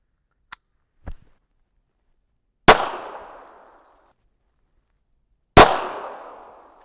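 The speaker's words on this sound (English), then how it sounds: "so there we got a double fire" A .25 ACP pistol firing handloaded rounds outdoors: two small clicks, then two sharp cracks about three seconds apart, each trailing off in a short echo, with no talking.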